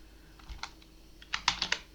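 Typing on a computer keyboard while a footnote is added in Affinity Designer, heard as a short run of close, crisp key clicks that are sparse at first, then a quick cluster of sharper taps near the end, with no voice.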